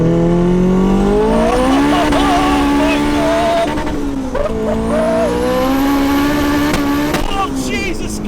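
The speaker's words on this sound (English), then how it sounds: "Ooh, it sounds mean. Hondas love a good blip on the downshift." A turbocharged B16 engine in an EF Honda Civic hatch revs loudly from inside the car, rising through gears with sharp throttle blips on the downshifts and turbo whoosh between them.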